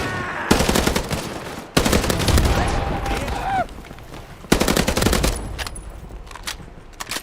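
Automatic gunfire in a shooting video game, loud rapid bursts in three long volleys separated by short gaps, with a few ricochet-like whines, close and dominant.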